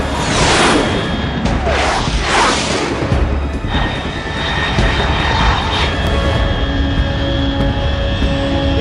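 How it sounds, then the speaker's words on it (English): A supersonic aircraft in Metal Gear Solid 3 roars past loud and close, with a rushing whoosh early on that fades into a sustained engine drone with steady whine tones. "Unidentified aircraft detected."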